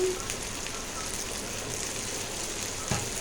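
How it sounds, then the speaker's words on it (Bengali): Onion sizzles in a hot pan, a steady crackling hiss that stays even throughout, close and fairly loud, with a small clatter near the end. "পেঁয়াজটা একটু ভেজে নেব।"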